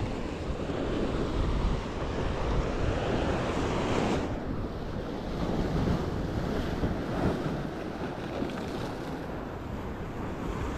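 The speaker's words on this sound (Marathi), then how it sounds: "समुद्र पिसाळलेलोच आहे आज." Rough sea waves break on a beach at night in a continuous heavy roar, with gusts of wind buffeting the microphone and no voices.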